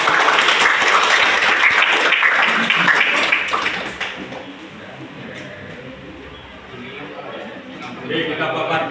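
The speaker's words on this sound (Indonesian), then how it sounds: "kita kasih aplaus untuk" An audience in a classroom coaching session for academic supervision claps, a dense burst of applause that gradually thins and softens, with voices chattering underneath and a brief swell near the end.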